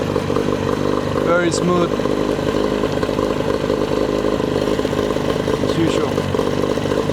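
A Mercury outboard motor warms up, running close with a steady, buzzing idle and a rapid, even firing pulse; someone speaks briefly over the running engine.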